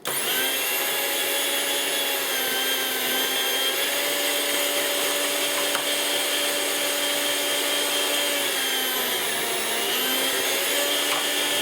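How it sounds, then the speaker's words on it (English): An electric meat slicer cuts meat for a pressed po boy sandwich, giving a steady loud motor whine with layered harmonic tones that barely shift over several seconds as the blade runs. "But I've got this meat slicer here, so that's what I'm going to use."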